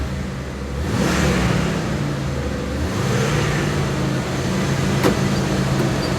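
A 2000 Jeep Wrangler engine idling a little rough, its throttle blipped so the revs rise in a couple of brief swells before settling back to a steady close-up running note.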